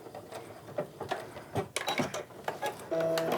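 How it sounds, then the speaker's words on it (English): A sewing machine runs fast, stitching a seam on a tote bag, with a quick mechanical ticking rhythm, brief stops and a steadier whirring hum at the end, close and moderately quiet. "And then keep on sewing all the way to the end."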